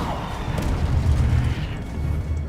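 Fire spell cast in Hogwarts Legacy, a dense low rumbling whoosh with a soft burst that swells and holds steady for a couple of seconds, loud and close.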